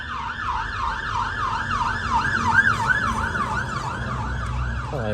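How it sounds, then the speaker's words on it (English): A fire engine siren wails in a rapid rising and falling sweep, loud and steady as it passes nearby over low road rumble. "Fire engine."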